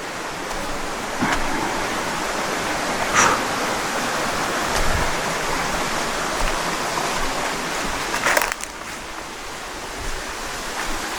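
A waterfall in southern Bohol, Philippines, gives a steady, close rushing roar of falling water that stays loud and even throughout, broken only by a few faint brief knocks.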